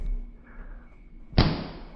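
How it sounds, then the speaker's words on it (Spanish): A quiet hum gives way to a single heavy thud against a door, followed by a lingering muffled rumble. "Oigo ruido en la puerta, como si forcejeara en ella un cuerpo inmenso y resbaladizo"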